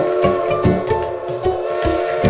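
A train sound effect plays loudly and continuously: a sustained whistle-like tone over hissing steam and a rhythmic chugging beat, with no voices.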